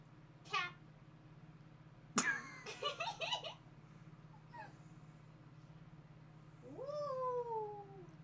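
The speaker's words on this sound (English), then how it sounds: "Cat." A cat meows several times close by: a short call, then a cluster of rapid chirping meows, then a longer drawn-out meow over a steady low hum.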